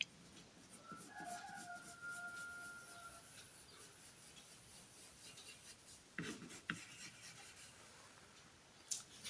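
Pencil hatching hair texture on paper in a shading drawing lesson: a steady, soft, close scratchy rasp of repeated parallel strokes, with a faint tonal hum early on and a few sharper scrapes near the end.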